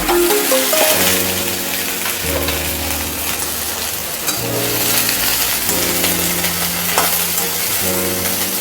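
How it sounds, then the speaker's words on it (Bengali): Bitter gourd and ridge gourd dropped in with ginger already frying in a pan, making a loud, dense, rain-like sizzle that is heard alone and close, with brief clatters of stirring and a faint low tone running throughout. "আদাটা একটু ভাজা ভাজা হয়ে আসলে তারপর উচ্ছে আর ঝিঙেগুলো আমি দিয়ে দিলাম"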